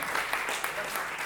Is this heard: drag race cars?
no